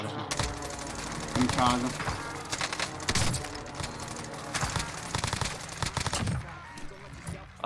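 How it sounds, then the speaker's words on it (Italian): Rapid bursts of automatic gunfire ring out in the Warzone video game, some shots cracking close and loud, with players talking over the shooting throughout. "Ha sparato nel muro."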